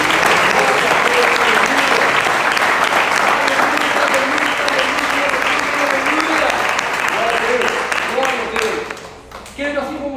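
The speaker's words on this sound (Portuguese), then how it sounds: "Você pode aplaudir o Senhor neste lugar?" A congregation at a church service applauds loudly and continuously, a dense wash of clapping that eases off near the end as a voice comes in.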